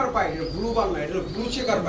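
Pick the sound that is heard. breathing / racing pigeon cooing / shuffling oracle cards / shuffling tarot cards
racing pigeon cooing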